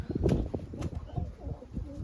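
A newly released Siraji pigeon flaps its wings in bursts of close, rustling flutters, with faint cooing mixed in.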